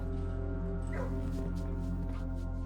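Dog in the Blue Prince video game giving short yips and whimpering bark-like calls over a steady hum of game music, moderately close.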